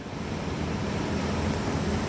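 A gas boiler burner roars steadily with a low, breathy rumble of flame after ignition, constant and fairly quiet, with no talking.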